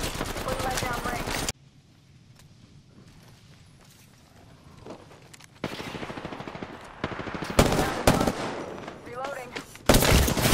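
Rapid bursts of automatic gunfire in the battle royale shooter Apex Legends, loud sustained volleys opening and closing the stretch with quieter scattered shots and faint game chatter between.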